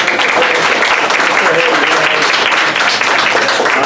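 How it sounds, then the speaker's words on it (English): A roomful of people breaks into loud, dense applause, a continuous wash of overlapping claps at close range that lasts the whole stretch. "round of applause"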